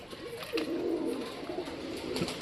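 Pet pigeons give a soft, low, rolling coo that lasts a couple of seconds at moderate distance, over a faint outdoor hiss with no voices.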